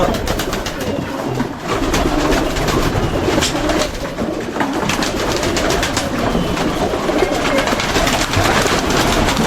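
Soft coos from pigeons in a cage repeat under a dense, rattling background of clatter and rumble, with scattered bird sounds throughout.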